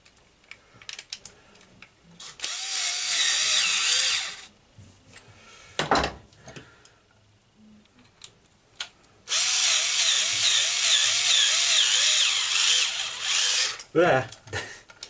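A cordless power drill drives screws into a boat water pump in two long steady whirring bursts, with clicks, handling knocks and brief tool sounds between them.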